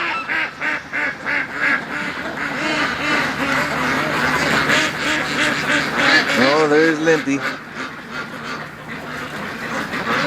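A crew of domestic ducks, many with physical defects, quack repeatedly and loudly in a busy chorus, with someone talking over them.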